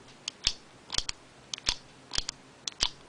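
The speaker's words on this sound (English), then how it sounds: "it has a nice click mechanism, so you can see all the inner workings. And if I click it" A Muji pen's click mechanism snaps sharply about six times in a loose, uneven rhythm, crisp and close up with a quiet background and no talking.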